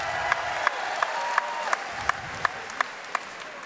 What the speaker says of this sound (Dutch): Een applausje voor het publiek zelf